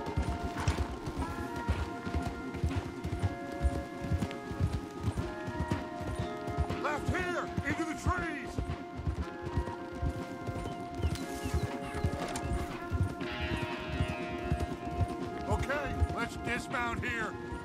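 Horses gallop hard in Red Dead Redemption 2, with rapid, continuous hoofbeats close by and occasional neighs and whinnies. Wheels rattle through the riding, and voices call out under it.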